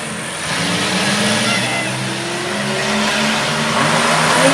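Race cars driving in reverse around a track, a steady loud engine drone with rising revs and a faint tire squeal, no talking over it.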